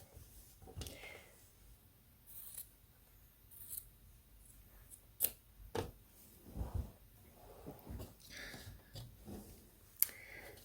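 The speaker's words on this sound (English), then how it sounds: "from this edge, we're gonna cut off probably about 1/2 inch from the edge" Scissors snipping along the edge of a vintage linen tea towel, several scattered crisp cuts and rustles of fabric, quiet and close, with pauses and soft handling sounds between them.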